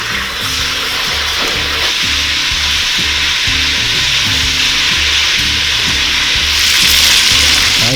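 Loud, steady sizzling and crackling of lamb tongues and tomatoes frying over heat, continuous throughout with a faint rhythmic clatter underneath.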